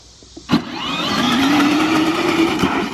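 A modded Power Wheels ride-on toy car fitted with rubber tires and wheelie bars goes to full throttle: a sharp click, then a close, steady electric motor whine that rises slightly in pitch as it speeds up.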